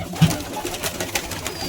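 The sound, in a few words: pigeons cooing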